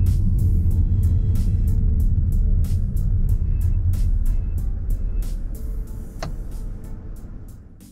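A Hyundai Ioniq 5 electric car driving, heard from inside as a steady low road and tyre rumble with ticking clicks, which slowly fades as the car slows toward a halt.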